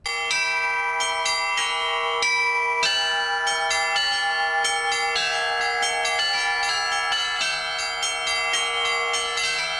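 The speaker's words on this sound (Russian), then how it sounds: "На чердаке он держит колокольню. Сам построил, сам раздобыл колокола, сам звонит." Church-style bells hanging in a homemade bell tower built in a dacha attic are rung in a lively, continuous peal, loud and close, with strikes layering into a ringing wash throughout.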